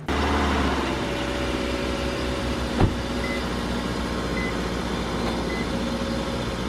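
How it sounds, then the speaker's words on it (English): A used car's engine cold-starts and idles steadily with a low rumble, a faint beeping tone repeating in the background. "So I'm gonna do a cold start for you right here."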